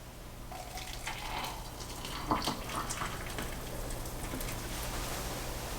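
Hot water from a Smarter iKettle smart kettle pours into a teacup, a soft, steady trickle and splash heard close and fairly quiet, with a brief louder gurgle midway and no voices.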